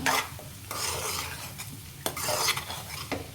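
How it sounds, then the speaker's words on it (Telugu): Masala being stirred into egg bhurji in a pan, dhaba style: a spoon scrapes and clinks against the metal in a steady run of strokes over a faint sizzle, close and moderately loud, with no talking. "ఈ మసాలాని అయితే వేసేసుకుందాం ఇంకా మంచిగా కలుపుకోవాలి మసాలా వేసుకున్నాక"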